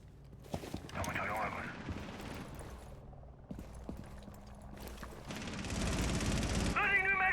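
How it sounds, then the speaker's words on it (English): Bursts of gunfire crackle in a Rainbow Six Siege match, a college esports game between Marietta College and Kutztown University, mixed with other game sounds while a commentator talks over them throughout. "He has to hear the gunshots being fired."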